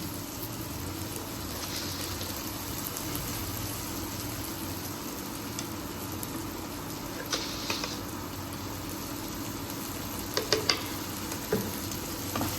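Red pasta sauce with sugar stirred in a pan gives a steady, close sizzle, with a few sharp utensil scrapes and clinks toward the end and no talking.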